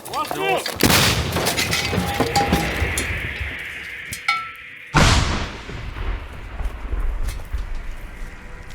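A 152 mm Msta-B artillery gun fires with a sharp, loud blast, then another booming shot follows after a few seconds, each trailing off into rumbling echoes.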